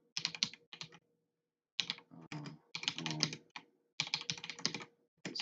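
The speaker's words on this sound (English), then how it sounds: "This keyboard is smooth." Close, quiet bursts of rapid typing on a computer keyboard, clattering keystrokes in several runs separated by brief pauses, with no talking.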